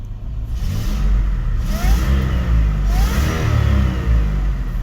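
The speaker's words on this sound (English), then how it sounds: "I'm just gonna give it some revs." A supercharged Nissan Xterra engine revs up and down steadily with a loud, close mechanical blower whine, the pitch rising in a couple of surges before settling.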